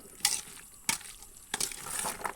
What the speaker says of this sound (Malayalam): നല്ലപോലെ ഇളക്കി കൊടുക്കണം കേട്ടോ